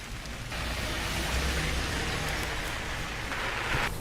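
Heavy, steady rain pours down onto flooded roads in Pulwama, a dense continuous hiss with a low rumble beneath it and no voices.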